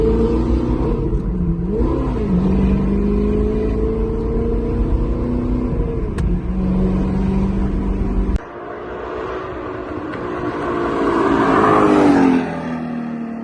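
An Audi R8 V10 with an aftermarket Capristo valved exhaust: a deep, loud drone and revs, pitch rising and falling, then cutting off sharply before a higher, rasping rev builds and drops.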